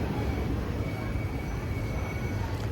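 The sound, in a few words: train departing from Arsikere station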